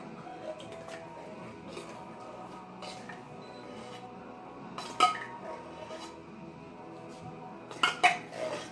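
Soup is poured and spooned into a casserole dish in a home kitchen, with soft scraping and sloshing and a few sharper clinks of the spoon against the dish near the middle and end.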